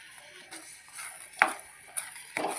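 A spoon stirs wheat kesari bath in a pan with ghee, fried almonds, raisins, cashews and cardamom, giving soft scraping swishes with a few sharper clinks against the metal, close and fairly quiet.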